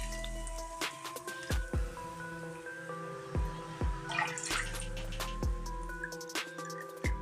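Water poured into a pan for boiling vermicelli while making semiya kesari, heard as a sustained pour with scattered drips and splashy knocks at close range, with no talk.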